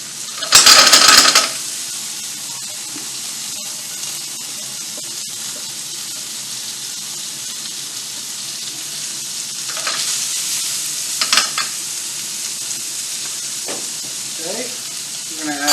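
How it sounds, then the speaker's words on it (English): Corn kernels sizzle and fry in a hot oiled pan with a steady crackling hiss, a louder burst near the start and a few light clinks later. "When you hear a little sizzle, you know you're ready to go."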